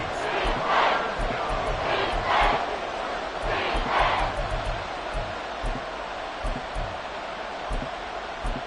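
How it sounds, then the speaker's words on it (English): A football stadium crowd at a Browns versus Steelers game swells and roars in waves, rising to several louder surges of cheering that then settle back into a broad, steady din. "Crowd getting in it a bit already."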